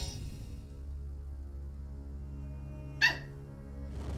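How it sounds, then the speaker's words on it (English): A Rottweiler gives a single short, sharp bark near the end, standing out over a steady low hum with no other sounds. "Who you barking at? You mad because they sleeping? Punk ass dog."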